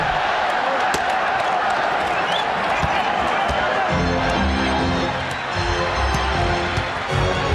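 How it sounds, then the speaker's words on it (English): Crowd at a 1995 NBA playoff basketball game between the Pacers and Knicks chants through free throws, a steady roar filling the arena with rhythmic chanting and cheers rising late, talk mixed in. "Crowd chanting during those free throws, let them play."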